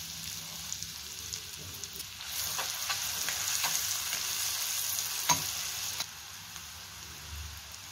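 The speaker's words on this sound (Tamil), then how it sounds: "பட்டர் நல்லா ஹீட் ஆனோடனையும் பூண்டு போட்டுக்கலாம்." Garlic sizzles in hot butter in a kadai, a soft continuous frying hiss with scattered crackles and a few stirring scrapes, fairly quiet and with no voices.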